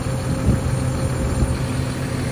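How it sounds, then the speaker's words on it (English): A 240 to 280 horsepower John Deere engine on a farm crop sprayer with a 5,600 litre stainless steel tank runs at a steady idle, a low continuous rumble close by with no speech. "We've got 240 or 280 horsepower John Deere engine."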